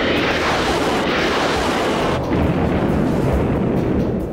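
An A-10 Thunderbolt II Warthog attack aircraft fires its gun, a loud continuous roaring burst heard outdoors, sustained for several seconds with a slight surge midway.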